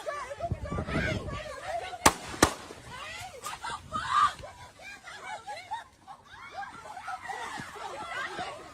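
Two sharp gunshot cracks ring out in quick succession, loud and close, between overlapping voices talking and laughing.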